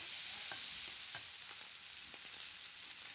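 Steak sears in a pan with butter, giving a steady close hiss of sizzling fat with a few brief clicks and scrapes as the meat is lifted and flipped, no voices.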